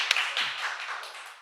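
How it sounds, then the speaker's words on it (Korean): A short burst of clapping for a student during a church sermon for children, starting with a sharp clap and then thinning into a light patter from a small group that fades within a second or two. "박수 한번 쳐줍시다"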